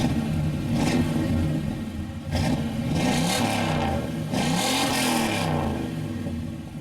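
A 1994 Chevy Impala SS idles close by with a low rumble, then is revved in several short bursts that rise and fall, with no talking over it.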